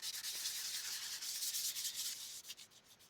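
Sandpaper rubbed by hand over a rusty metal halberd head after a hot rust-removal soak, a steady close, loud scratchy rasp that continues throughout and then breaks into short strokes near the end.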